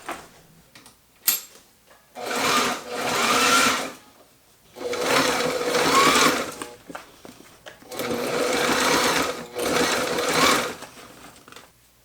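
A sewing machine stitches the seam of a homemade workout sandbag in four sustained runs of rapid mechanical whirring, separated by short pauses with small handling clicks.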